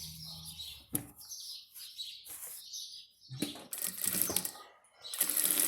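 A sewing machine stitches soft fabric lining in short runs, its whirring motor starting and stopping between pauses, close up with faint background noise.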